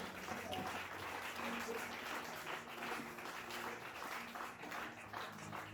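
Church congregation applauding during a French-language sermon, a steady wash of clapping from a crowd, moderately distant and fairly faint, with voices mixed in.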